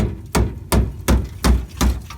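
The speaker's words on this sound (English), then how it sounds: "there's one thing I got to do for you guys. The hammer test." Six sharp metallic hammer strikes on the rusty metal of a 1986 Toyota 1-ton pickup truck land at a steady, even pace, each a loud close clang with a brief ring, separated by quiet.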